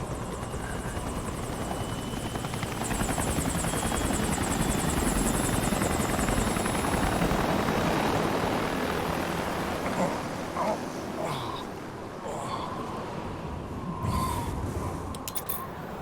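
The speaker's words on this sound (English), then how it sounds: "What's a Russian gunship doing here?" Russian Hind gunship helicopter in Metal Gear Solid 4, a loud, steady rotor thrum that fills the scene throughout, with some faint higher whines and clatter over it.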